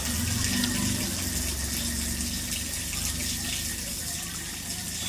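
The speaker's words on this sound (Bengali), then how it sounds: "সর্বপ্রথম হাতগুলো এইভাবে ধুয়ে নিতে হবে সুন্দর করে" Tap water runs steadily throughout while hands are washed for wudu (Islamic ablution) at a faucet, a continuous close splashing flow with no speech.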